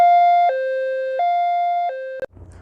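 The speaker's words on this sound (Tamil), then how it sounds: "நாலாவது நம்ம பார்க்க போகிற பார்த்திங்கன்னா வந்து ஹை லோ சைரன்" An ambulance siren in high-low mode alternates between two tones in an even two-step pattern, loud and close, then cuts off abruptly.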